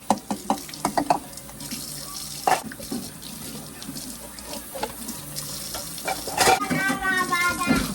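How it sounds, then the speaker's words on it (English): Dishes are rinsed by hand under a running kitchen tap at night, with water streaming steadily into the sink and brief clinks and clatters of crockery throughout. "I'm going to go ahead and finish scrubbing, rinsing, and putting these dishes out to dry."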